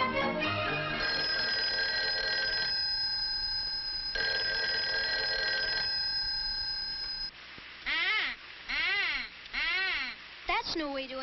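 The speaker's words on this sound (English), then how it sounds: "That's no way to answer the phone, Susie." Old-fashioned telephone bell ringing loudly in long sustained trills, two rings in a row, followed by a voice whimpering and crying in short bursts.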